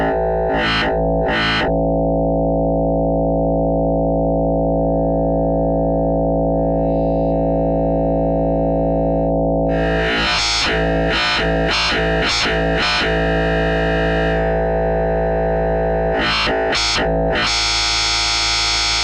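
A distorted FM vowel bass synthesized with Ableton's Operator synth: a loud, sustained buzzing low drone with bursts of rapid gated, wah-like vowel pulses, a long held stretch between them, and no voices.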